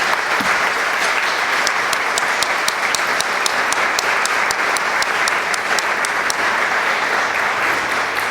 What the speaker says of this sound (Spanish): Lo saludamos con un fuerte aplauso.